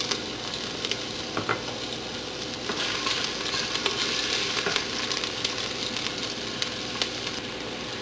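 Garlic and ginger sauté in hot oil in a pan for pork tinola, giving a steady close sizzle and crackle throughout with occasional louder pops and no talking.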